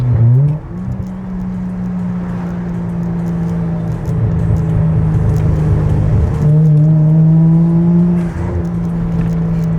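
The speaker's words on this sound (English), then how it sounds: "Yeah, just rev it up." A 1994 Toyota Chaser's engine revs loudly and steadily close by, its pitch rising and shifting as the throttle is pushed, with no voices.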